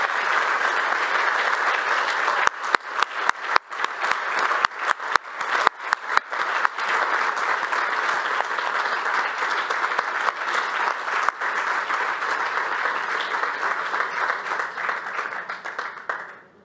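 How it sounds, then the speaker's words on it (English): Loud, sustained applause from a large conference audience at a Bratislava forum's closing session, dense clapping for about sixteen seconds with a few sharper claps near the start, fading out at the end. "you deserve a big applause"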